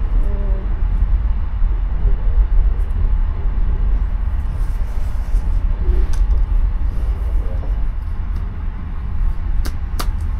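Passenger train running through the Australian outback near Alice Springs, heard from inside as a steady low rumble and rolling noise, continuous and fairly loud, with a few faint clicks.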